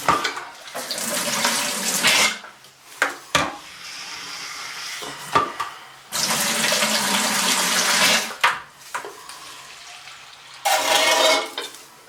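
Water is pumped out of the drain traps while winterizing a vacant house, heard as bursts of loud rushing, gurgling water broken by short pauses and clunks, close by.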